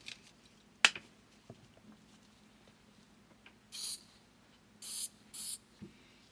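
Lysol disinfectant spray is sprayed inside a thrifted shoe in three short hissing bursts, close and fairly loud, following a sharp snap and light handling noises.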